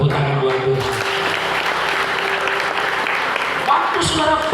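A church congregation at a healing revival service applauds, a dense continuous wash of clapping that holds steady and loud throughout, with brief tonal sounds near the end.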